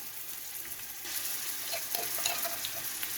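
Garlic and ginger fry with onion in a pan while cooking chana pulao, making a faint, soft sizzle that grows a little louder and denser after the first second, with small crackles scattered through.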